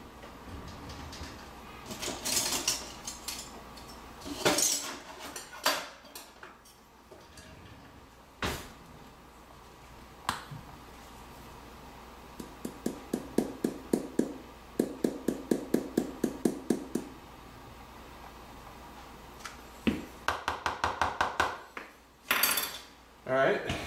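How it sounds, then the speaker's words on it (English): Dry ingredients with cinnamon are stirred in a bowl for gluten-free energy bars, giving quick rhythmic runs of tapping and scraping. Scattered clunks and knocks of bowl and utensils sound between the stirring runs. "mix that all up together"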